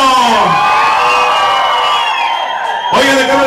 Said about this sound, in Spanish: ¿cómo está ese grito mexicano?